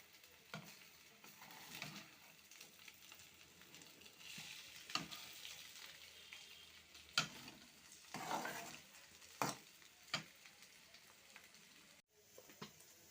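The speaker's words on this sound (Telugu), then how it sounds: "ఇలాగా ఫ్రై అవుతుంది కదా." Onion and egg curry frying in a pan, a soft steady sizzle broken by sharp scrapes and taps of stirring, fairly faint with no voices.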